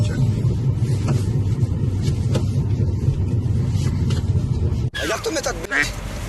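A Volkswagen CC engine rumbles steadily from inside the vehicle, loud and continuous, with a voice speaking briefly near the end.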